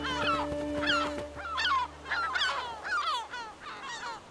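Seabirds at a busy colony on the Galician coast call over and over in a steady run of harsh, honking cries, fairly close and loud, with a low continuous hum underneath.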